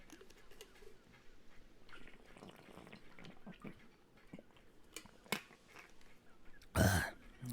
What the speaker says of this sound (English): may need a swig of water